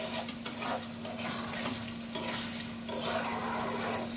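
A spatula scrapes the sides of a kadai as posto cooks, making repeated scratchy strokes over a soft sizzle and a steady low hum.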